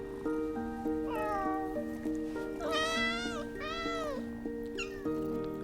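Several young kittens meow repeatedly in high, wavering cries that overlap close by, over a steady soft musical drone.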